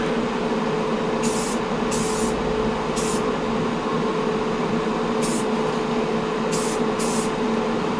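Steady hiss of a spray can or airbrush coating a model Mustang car body with paint, a continuous close spray running throughout with brief higher bursts now and then.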